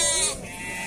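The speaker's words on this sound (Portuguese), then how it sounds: "Tem bastante ovelha aqui." Sheep at a goat and sheep livestock fair in Dois Riachos, Alagoas, give a single loud, close bleat that wavers and trails off in under a second.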